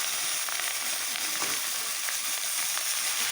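Dhenki greens and chopped ginger sizzle in a frying pan with a steady, even crackle and occasional soft scrapes of stirring, heard close with no voices.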